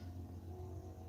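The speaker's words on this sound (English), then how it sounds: "it sounds like it might be some kind of Mustang or something like that" A car engine revs in the background, a steady low rumble with a mid-range whir that holds for the full moment, with no talking over it.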